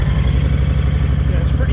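A motorcycle engine idles steadily in neutral with an even low-pitched throb, fairly tame and not radically loud like a Harley, running close by with a voice talking over it.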